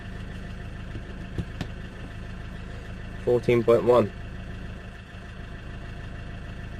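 A van engine idles steadily as a low, even rumble throughout, with a short burst of nearby speech partway through.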